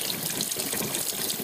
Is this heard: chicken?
no